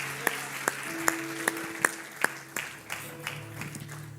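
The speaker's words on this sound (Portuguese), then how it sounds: "Toma o seu lugar aplaudindo ao Senhor" Congregation at a men's church service applauds in praise, with a few prominent close claps standing out in a steady rhythm over a broader wash of clapping that thins toward the end, alongside a sustained low hum.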